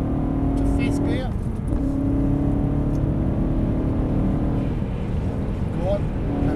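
A BMW M3 accelerates hard around a race track, its engine droning loud and steady as the revs climb, while a driving instructor talks over it throughout.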